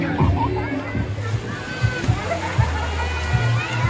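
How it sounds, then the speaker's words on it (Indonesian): Child and mother splashing in the sea at Tiska beach in Lampung, with repeated close water splashes and sloshing over a steady surf wash, and people talking nearby throughout. "Cia sama Bunda lagi mandi di pantai."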